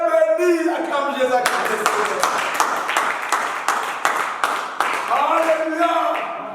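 A church congregation claps in a steady rhythmic beat, a burst of many hands sounding close and lively, with singing or voices before and after.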